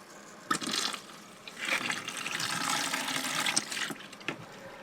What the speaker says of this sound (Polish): Teraz boiler musi się napełnić. 50 litrów wody.